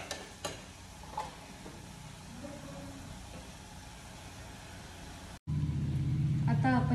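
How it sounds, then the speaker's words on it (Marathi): Spice paste with red chili powder and turmeric frying in oil, giving a low steady sizzle close by that grows louder and fuller near the end, with a brief clatter at the start and a short gap before the surge. "ह्याच्यामध्ये आपण आपले लाल मसाला, हळद आता टाकून घेऊ."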